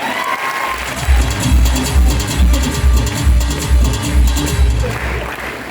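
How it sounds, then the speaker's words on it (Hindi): Loud audience applause and cheering from a crowd at an event in Lucknow, sustained over several seconds with pulsing bursts, no talk over it. "आपने इतनी दमदार तालियों के साथ में हमारा स्वागत किया"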